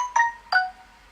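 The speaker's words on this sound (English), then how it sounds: "sorry guys, that's my phone." A mobile phone rings indoors with two short, bright electronic chimes, each a clear multi-tone beep followed by a brief fading tail, then quiet.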